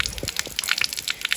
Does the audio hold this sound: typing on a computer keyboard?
no